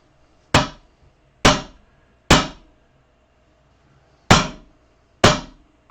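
A hammer strikes the front sight of a Ruger 10/22 rifle to drive it off, five sharp, ringing metallic taps spaced about a second apart, with a longer pause before the last two.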